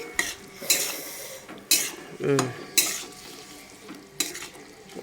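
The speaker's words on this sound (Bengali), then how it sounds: "এবার এটা নাড়াচাড়া দিয়ে একটু মিশিয়ে নিচ্ছি" A spoon scrapes and clinks against a pan while curry is stirred and mixed, in a few separate bursts of metallic scraping with quiet gaps between, close and moderately loud.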